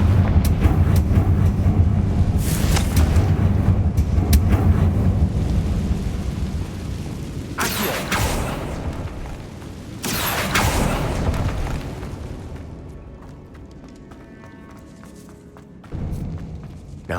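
Loud booming blasts from a Confringo fire spell in Hogwarts Legacy, several heavy explosive bursts with rumbling tails echoing through a grand room, separated by quieter stretches.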